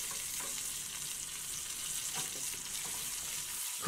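Shrimp frying in a pan with garlic, olive oil and lemon slices makes a continuous close sizzle with small pops, steady throughout, ending on a sudden bump.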